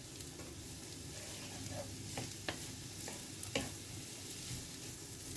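Onions and shallots sizzle steadily in a frying pan while being stirred, with soft scraping clicks and utensil knocks breaking through the constant hiss; no one talks.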